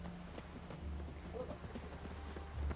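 A horse clip-clops briefly in The Witcher video game, a few soft, muffled hoof thuds over low rumbling game ambience and a faint background hum.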